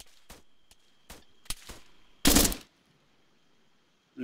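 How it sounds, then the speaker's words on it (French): Arma 3 gunfire: several sharp, separate shots at irregular spacing, then a louder, denser burst of rapid fire before quiet returns. No one speaks. "ça tire derrière le rocher, là-bas"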